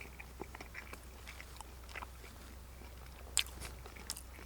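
Someone chews a bite of freeze-dried lamb meal close to the mic, with quiet, irregular crunching and squishing bites and one sharper crunch near the end, against a faint hushed background.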